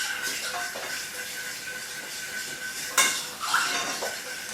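Whisk beating milk into a sauce in a pan for a chicken and leek bake: steady metallic scraping and swishing nearby, with a few sharper clanks of the whisk against the pan.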